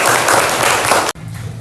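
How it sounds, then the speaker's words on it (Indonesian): A classroom of students applauding a fellow student group after its presentation, a brief burst of dense clapping that cuts off abruptly, leaving a quieter room with low murmuring. "Terima kasih untuk kelompok 4, tepuk tangan."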